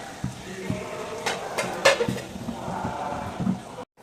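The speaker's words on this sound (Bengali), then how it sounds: "এখন আমি এগুলো ছুরি দিয়ে উঠিয়ে নেব" Metal knife scraping and clinking against a clay pot while lifting out milk chitoi pitha, a few faint scrapes and taps with a brief louder clatter midway, quiet and close.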